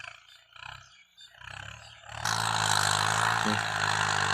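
A big M85 tractor engine, pulling a four-disc plough, chugs in uneven bursts, then opens up into a loud, sustained roar close by that holds steady to the end.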